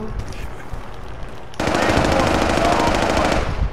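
Rapid automatic gunfire in a squad shooter game, a long rattling burst breaking out sharply after a quieter opening and running loud and close to the end.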